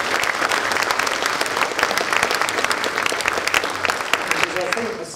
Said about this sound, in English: So I think a big round of applause from her.